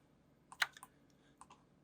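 A few quiet computer keyboard key presses, with a quick cluster of clicks followed by two more taps, close and faint in a silent room.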